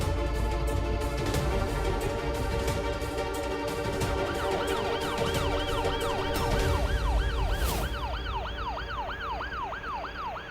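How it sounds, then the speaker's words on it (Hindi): A wailing emergency siren sweeping up and down repeatedly, loud and continuous over steady background noise, rising in clarity toward the end, with no talking. "ये देख, सायरन की आवाज सुन रही है?"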